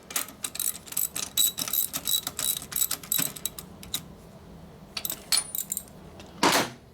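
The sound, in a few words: socket ratchet wrench tightening bolts on 1941 Knucklehead motorcycle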